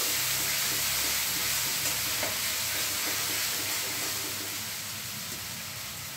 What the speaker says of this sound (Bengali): আমি এবার তেলের মধ্যে এই বাটা মশলাটা দিয়ে দিচ্ছি।